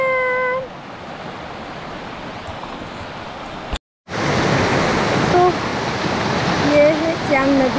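Rushing water of the Siang river near a hanging bridge in Arunachal Pradesh, a loud broadband roar that cuts out briefly and returns stronger, with faint chirps or tones over it.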